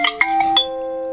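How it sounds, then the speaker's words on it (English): A short chiming ringtone from a Nokia 3.1 Plus phone, its speaker on the back, sounds a few quick bell-like notes, ending on a sustained ringing tone, clear and alone. "Let's go to ringtones"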